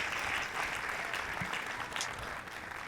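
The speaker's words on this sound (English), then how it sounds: "Crowd enjoying that a bit." Spectators at a professional men's singles pickleball match applaud after a point, a steady wash of clapping, fairly distant and moderately quiet, lasting a few seconds.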